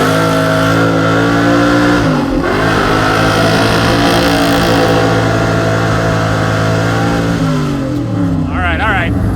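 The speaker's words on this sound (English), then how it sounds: "I'm gonna have to shift gears, and that's not easy because my transmission is straight out of a van in a junkyard" A Mopar muscle truck with a junkyard van transmission revs hard under acceleration, the engine note dropping at a manual gear shift before climbing again, loud and close throughout.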